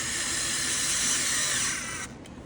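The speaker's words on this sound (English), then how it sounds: "So now we're putting in these 2 screws." A powered screwdriver drives two screws into a KWA MP9 airsoft lower receiver, giving a steady high whir that runs for about two seconds and then cuts off, close and fairly quiet.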